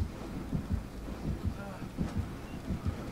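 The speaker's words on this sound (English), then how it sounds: "I couldn't hear the heartbeat properly" The killer's heartbeat warning in the horror game Dead by Daylight, a low, muffled, rhythmic thumping pulse repeating steadily under a noisy ambient rumble, with no talking.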